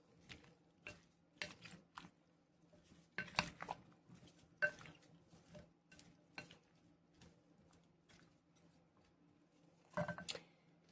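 A pineapple and cucumber salad dressed with rice wine vinegar is being stirred, making quiet, wet squishing and scraping sounds with sparse clinks of a utensil against the bowl and short gaps between strokes.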